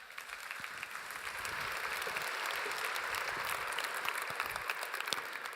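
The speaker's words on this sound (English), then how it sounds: "please give a huge round of applause for our first young leader today, Callan Daley." A plenary audience at an agricultural conference gives a speaker a broad round of applause, a wide wash of clapping that swells and holds steady, with a few louder claps standing out.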